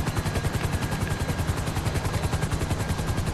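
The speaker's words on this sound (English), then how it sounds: "Helicopter's glitching up." Helicopter in Grand Theft Auto Online, a steady, loud rotor chop with a fast even pulse running throughout, glitching in a tank-related session, heard alone without talk.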